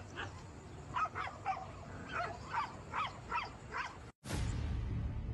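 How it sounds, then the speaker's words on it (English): Several dogs bark in repeated bursts at night near a house, the barking moderately distant against a low background rumble, ending with a brief cutoff and a louder wash of noise. "Dogs are going nuts."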